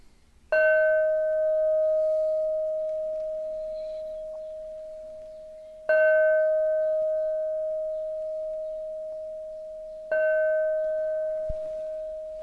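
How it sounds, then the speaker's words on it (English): Three separate bell strikes ring out alone, each a clear bright tone that sustains and slowly fades before the next, spaced several seconds apart in a quiet room. "So we're going to do the bells. If you don't like bells, fingers in ears."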